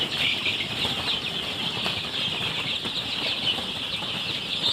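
Rhode Island Red chickens kept in a farm shed in Sorbhog, Assam, make a continuous busy chatter and rustle with bursts of wing flapping, moderately close and with no one speaking.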